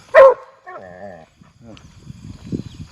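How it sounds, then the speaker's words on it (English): A friendly stray dog gives one sharp, loud bark up close on a street in Thailand, followed by a person speaking and softer murmuring voices. "Oh, whose dog are you? A very friendly dog."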